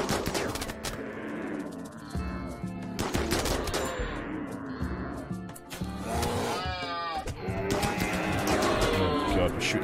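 Rapid machine-gun bursts and scattered gunshots from a RimWorld colony battle rattle on almost nonstop, loud and dense, with a few brief animal bleats and a voice talking beneath the shooting.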